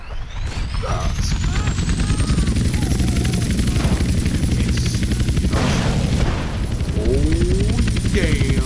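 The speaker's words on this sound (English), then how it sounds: "Ooh, a helicopter." A helicopter flies in GTA San Andreas, a loud, steady rotor drone running the whole time, with blasts and gunfire bursts breaking in.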